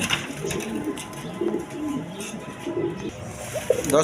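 A pair of shorting pigeons among other birds for sale coo in repeated low, throaty bursts close by, over a murmur of background noise and distant voices.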